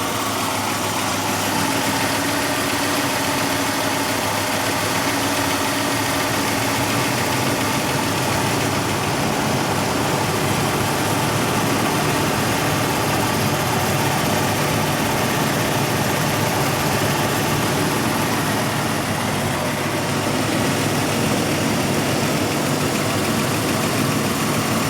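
A 1994 Ford Explorer Limited engine idles while cold, a loud, steady, close-up mechanical drone with constant vibration and a busy ticking texture running throughout.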